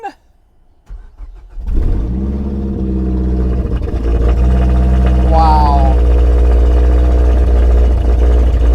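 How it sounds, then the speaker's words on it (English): An engine cranks and catches, then settles into a steady, loud idle with a low rumble; someone briefly exclaims over it. "that's an engine right there"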